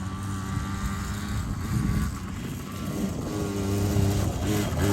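A barn-find Yamaha BW80 motorcycle runs rough with a slipping clutch, its engine droning steadily and rising and falling in pitch, close by with no talk.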